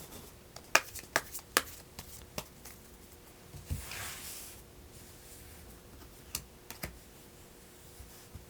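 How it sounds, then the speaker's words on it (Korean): Tarot cards are shuffled and drawn in a quiet room: scattered soft clicks and taps of cards, a brief rustling sweep midway, then a few more sparse card snaps. "한번 추가로 카드 뽑아볼게요"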